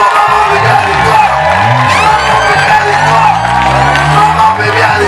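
Guests at a customary wedding cheering loudly, with whoops, shouts and ululating voices from a close, dense crowd, plus people talking amid the noise.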